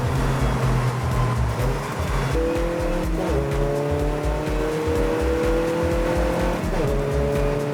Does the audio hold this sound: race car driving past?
yes